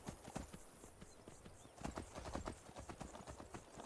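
Horse hooves clip-clop in a quick, steady rhythm as a horse is ridden in the video game Skyrim, over a faint ambient background without any talk.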